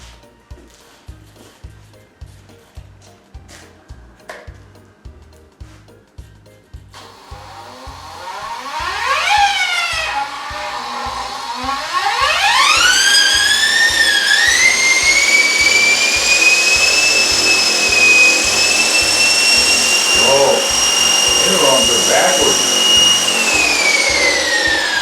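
Align T-Rex 470 L electric RC helicopter spinning up: rhythmic clicking gives way to a rising whine that climbs in pitch, then settles into a loud steady high-pitched rotor and motor hum.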